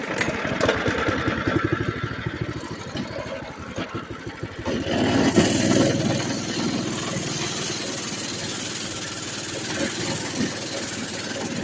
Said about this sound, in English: I'll go ahead and get on it, show you how it runs, because it runs great.